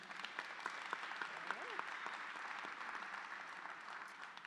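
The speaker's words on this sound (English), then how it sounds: "Can we give them a round of applause for that?" An audience at a fireside chat event applauds, a steady wash of many hands clapping at moderate level, with a few brief voices and a whistle-like tone rising through it early on.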